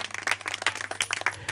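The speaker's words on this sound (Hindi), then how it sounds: "जोरदार प्रभु जी के लिए ताली बजाएंगे।" A congregation at a Christian prayer meeting in Jaijaipur claps together in quick, steady bursts, a close and lively round of hand claps that fills the room with no voices over it.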